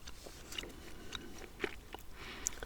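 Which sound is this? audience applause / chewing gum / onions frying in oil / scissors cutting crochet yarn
chewing gum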